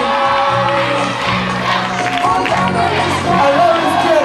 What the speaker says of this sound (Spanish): Fuerte aplauso para Margy.